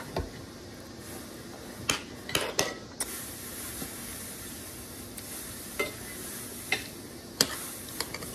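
Vegetables with tomato and onion being stirred in a pan, with a steady low sizzle and occasional sharp scrapes and clinks of a utensil against the pan, some in quick clusters.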